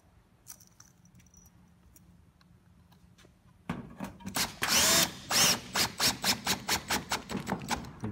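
Quiet handling noises give way to a cordless drill with a 5/16 hex bit driving metal roofing screws through ridge flashing, loud and close, with a long whirring drive followed by a rapid run of repeated impact bursts.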